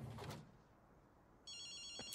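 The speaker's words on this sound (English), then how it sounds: "I hear a phone. So let's answer the phone" A telephone ringing in the video game GhostWire: Tokyo: a rapid, buzzy electronic ring with a shimmering bell-like trill starts abruptly and continues steadily, preceded by brief soft rustling in the game's ambience, no speech.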